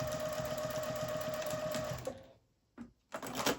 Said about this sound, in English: I like to put in a second row of stitching right next to that one